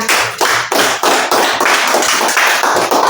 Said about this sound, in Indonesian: beri tepuk tangan untuk kelompok dia